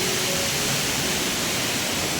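Loud, steady rush of water roaring without a break, a village river in the Konkan swollen into flood by heavy rain, flowing close by.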